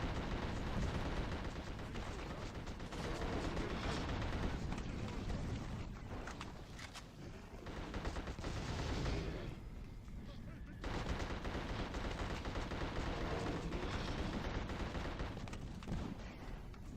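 Sustained gunfire in the video game The Suffering, dense bursts of shots rattling almost continuously across the stretch, loud and close with brief lulls between volleys.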